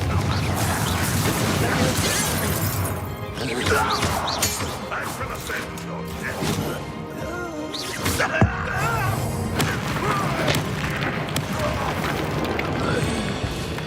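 In Hogwarts Legacy, the Confringo explosive spell sets off thuds and crashing blasts within a dense, continuous mix of game effects and background sound, with voices speaking at points.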